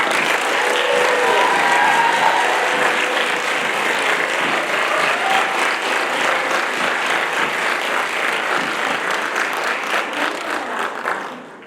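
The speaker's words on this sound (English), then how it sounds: "Please give them a round of applause." Audience at a school awards night applauding honored tech students, a full sustained round of clapping from a sizable crowd that gradually thins out toward the end.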